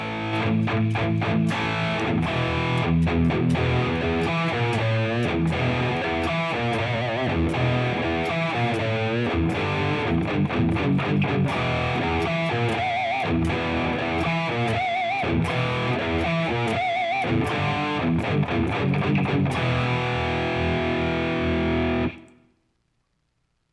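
Electric guitar played through a Marshall JCM800 amp plug-in patch with fairly dry reverb, a loud, dense distorted tone with rhythmic chugging and strummed chords that runs continuously before cutting off abruptly.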